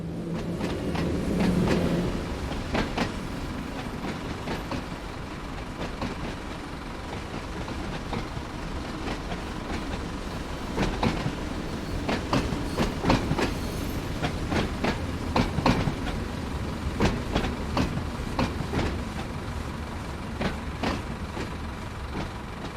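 A Class 483 electric train, unit 483003, pulls away from Ryde St John's Road toward Shanklin, rumbling steadily with repeated clickety-clack wheel beats over rail joints, close and fairly loud throughout.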